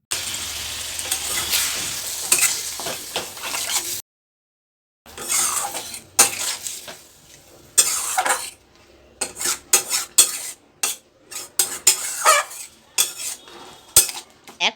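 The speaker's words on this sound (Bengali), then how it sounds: "এবার সামান্য একটু জল দিয়ে পুরো মশলাটাকে ভালো করে কষিয়ে নিতে হবে।" Spice paste of coriander and cumin powder frying with a little water in a pan for a vegetarian jackfruit curry, with sizzling and repeated scraping and clinking of a utensil against the pan in bursts, broken by a short pause.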